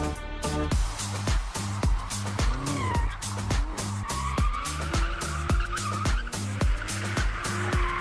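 Drifting cars with skidding tires, where long continuous tire squeal sits under a repeating rhythmic engine pulse that stays loud and steady throughout.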